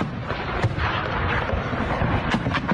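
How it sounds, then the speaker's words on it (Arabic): An explosion after midnight on a Friday, a suspected rocket attack on a Popular Mobilization Forces site in Iraq, comes across as a continuous dense rumble broken by several sharp, loud cracks. "شدة الانفجار الذي حدث بعد منتصف ليل الجمعة"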